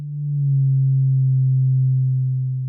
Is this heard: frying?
no